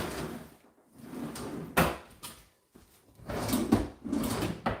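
Kitchen drawers slide open and shut repeatedly in an unfinished kitchen during a hunt for a rolling pin, with close wooden rumbles, clacks and sharp knocks of varying loudness.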